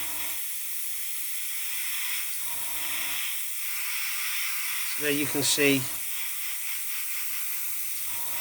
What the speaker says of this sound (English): I have never in my life seen Vallejo spray like this.